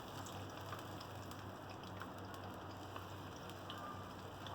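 Ginger garlic paste fries in hot ghee for a beef karahi, giving a steady, even sizzle with no pauses, close and moderately loud, with no talking.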